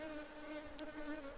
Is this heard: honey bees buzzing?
yes